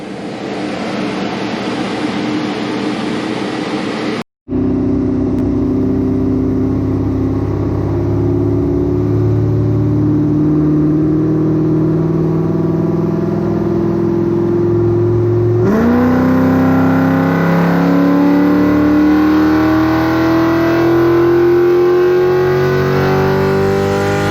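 A loud Pontiac GTO V8 engine, set up for nitrous, revs steadily and climbs in pitch, drops back briefly after a short cut, then winds up again in a long sustained pull.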